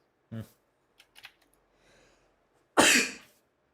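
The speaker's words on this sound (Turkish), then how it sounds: "Hapşırıyorum, öksürüyorum, her şey oluyor" A single sharp cough bursts out near the end, preceded by a brief low cough-like sound and a few light clicks like keyboard taps.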